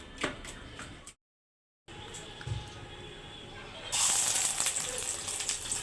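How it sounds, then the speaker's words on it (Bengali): An egg fries in a pan; faint background noise gives way after a short silence to a louder, steady close sizzle that carries to the end. "এখন সকালে খাবারটা খাবো, এই জন্য ডিম ভাজলাম"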